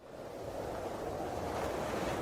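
Ocean waves surge and wash in a steady roar out at sea around a rowing boat, broad and continuous with wind noise, swelling slightly louder toward the end.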